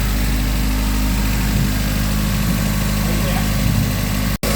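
A Toyota Corolla 12-valve engine idles close by with a steady, deep rumbling drone and faint mechanical ticking, continuous and loud until it cuts off abruptly near the end.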